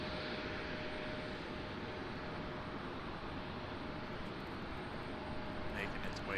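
An Avelo Airlines airplane taxis out for departure at Raleigh-Durham airport, a steady, dense engine roar that stays level throughout with a faint tonal whine on top.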